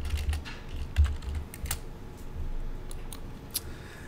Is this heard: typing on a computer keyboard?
yes